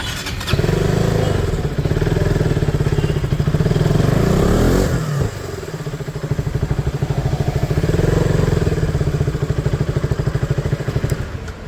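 A Yamaha MT-03 motorcycle idles loudly and steadily indoors in a showroom, a continuous close engine drone with a brief dip midway before settling back to a throbbing idle.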